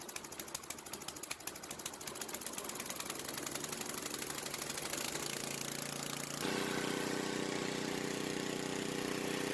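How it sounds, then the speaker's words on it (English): An old Ariens snowblower engine, running after a carburettor rebuild, catches and builds into a steady, fast, rattling small-engine drone that grows louder and then holds at a constant pitch. It is close by, with no voices. "that's a great running little snowblower"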